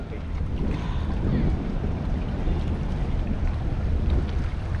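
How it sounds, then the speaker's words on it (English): Steady wind blowing across a fishing boat at sea off Mooloolaba, a constant broadband rush with low buffeting and water wash, loud and continuous throughout with no clear talk. "Because we got a bit of wind."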